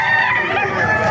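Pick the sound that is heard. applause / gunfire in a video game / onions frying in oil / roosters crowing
roosters crowing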